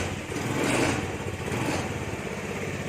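A 2011 Honda Spacy carbureted automatic scooter engine runs close by after starting, a steady, buzzy idle with a slight swell in the middle and no talking.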